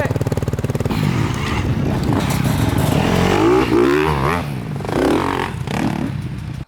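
A dirt bike engine revs and pulls away on a woodland trail, a rising buzzy motor note that climbs and falls with throttle, with people talking nearby over it.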